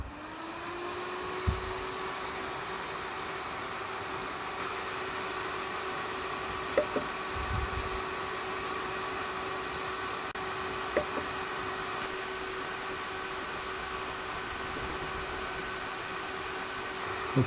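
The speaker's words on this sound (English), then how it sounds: "So over to the compressor." A Hill EC3000 high-pressure air compressor runs steadily, filling a bottle: a constant loud mechanical hum with an even tonal whine, plus a few faint clicks and knocks along the way, with no talking.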